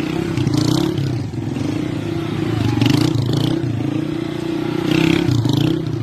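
Motorcycle engine in Jamaica roaring steadily close by, its revs swelling and easing as the clutch is let out, with some clatter over the top.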